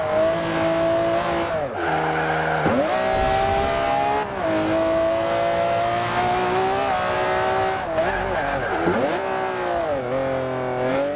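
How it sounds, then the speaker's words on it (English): A Ferrari Enzo V12 in Forza Horizon 2 screams at high revs, its pitch climbing through the gears with sharp drops and downshift blips, loud and close with tire squeal edges. "Let you hear this big screaming V12, because it is an absolute jewel."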